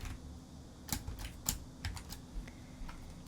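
Several keystrokes tapped on a computer keyboard while working in an Excel spreadsheet, ending in an Enter press, come as scattered sharp clicks at close range over a low steady hum, with no voices.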